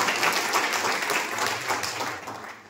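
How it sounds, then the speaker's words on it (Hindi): An audience applauds a man, giving a steady, fairly faint wash of many hands clapping for a few seconds with no voices over it. "सर के लिए एक बार जोरदार तालियां"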